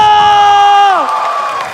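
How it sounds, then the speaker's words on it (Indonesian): An esports crowd at the G-Expo Mobile Legends playoff match between AURA and AE lets out a loud, sustained cheer with whooping voices that swell and then slide downward into a broader roar. "G-Expo, mana tepuk tangannya?"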